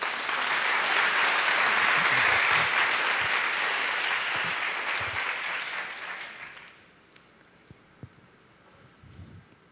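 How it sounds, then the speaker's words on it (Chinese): Audience applause at a church sermon on marriage, a dense sustained clapping that rolls on loudly for about six seconds before fading out into a quiet hall with a few scattered knocks. "给他们一个掌声。"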